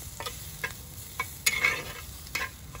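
Stuffed pointed gourds fry in a small amount of oil with a soft, continuous sizzle, broken by regular spoon scrapes against the pan roughly every half second to a second.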